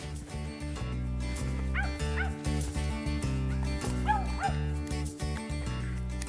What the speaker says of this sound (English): she's barking right now, so we got to get to her